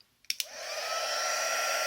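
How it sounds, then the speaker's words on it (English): An embossing heat tool clicks on and ramps up into a steady, close blowing whoosh that holds without a break. "this is the heat tool, and I'm going to leave it to heat up for a little while"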